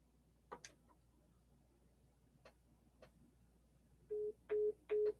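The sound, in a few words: phone call being placed on a cell phone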